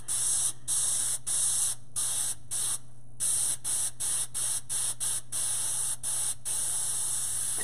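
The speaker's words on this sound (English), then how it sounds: "I'll finish spraying this length" An airbrush hisses in repeated short bursts while spraying chrome paint onto chain links, each spurt cutting off abruptly over a low steady hum, close and even in rhythm.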